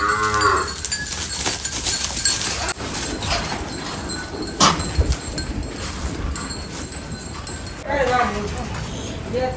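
Cows mooing in a cowshed before milking, with deep drawn-out lows near the start and end over a busy background of shuffling, clanks and a cowbell, while people talk nearby.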